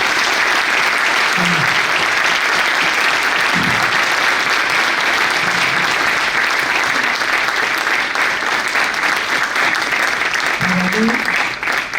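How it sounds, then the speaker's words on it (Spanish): An audience gives loud, long, continuous applause at the end of a Renault talk with engine builder Oreste Berta, with dense clapping filling the room and a few voices calling out over it. "los saludamos con un fuerte aplauso"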